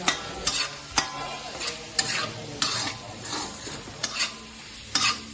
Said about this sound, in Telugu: ఇక్కడ మసాలా వేసుకొని ఇంకొకసారి అయితే కలుపుకోవాలి.